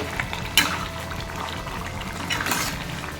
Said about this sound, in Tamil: குழம்பு நல்லா கொதிக்குது